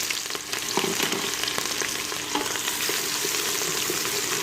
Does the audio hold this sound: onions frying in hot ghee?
yes